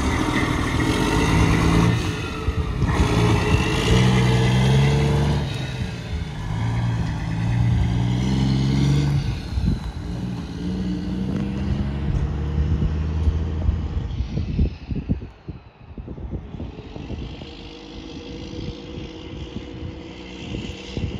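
Yellow cabover truck engine running and pulling away after repairs, a loud, rough diesel drone with revving surges that fades and shifts as the truck moves off.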